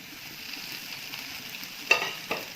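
Boiled macaroni stirred into chicken masala in a pan, a quiet sizzle underneath with two sharp scrapes of a spoon near the end.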